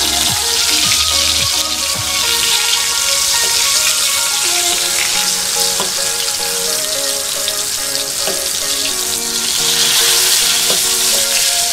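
Eggplant slices fry in oil for Bengali begun bhaja, a loud steady sizzle and crackle with occasional scraping as the slices are turned and stirred, no talking.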